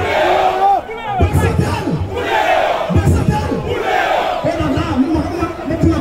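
A large crowd at a street rally in Cap-Haïtien, Haiti, roars and chants in loud rhythmic waves, with surges of shouting repeating every second or so across the stretch.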